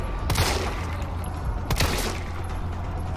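Two sharp gunshots from Resident Evil 3, spaced more than a second apart, ring out over a low, rumbling game soundtrack.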